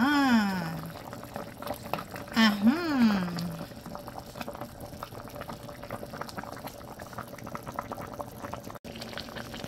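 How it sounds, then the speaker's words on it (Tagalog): Beef soup simmering in a covered pot gives a steady bubbling boil throughout, with a brief voice near the start. "Takpan muna natin at pakuluin."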